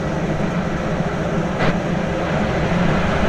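Frankfurt S-Bahn train rolling along the rails in the Train Sim World 5 game, a steady, loud mechanical rumble and hum that runs evenly throughout, with a brief brighter swish midway.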